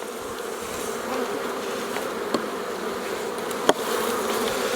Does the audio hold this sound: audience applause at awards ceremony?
no